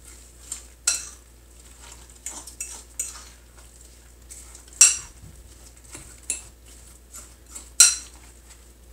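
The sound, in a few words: mixing apple cinnamon muffin batter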